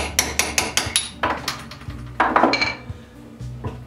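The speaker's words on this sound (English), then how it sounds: "My little hammer just walks right through it." A small hammer strikes sheet steel, cutting through it in a rapid series of sharp, ringing metallic taps, close and loud, with a few heavier blows mixed in.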